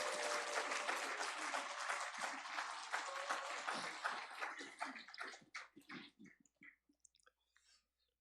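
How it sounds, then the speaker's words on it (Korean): A church congregation claps in welcome as the pastor comes out, a dense burst of applause that thins into scattered, fading claps over several seconds, with no voices. "우리 목사님 나오실 때 환영의 박수 한번 드리겠습니다."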